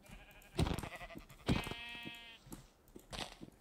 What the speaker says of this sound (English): Oh wow, there's a lot of sheep here.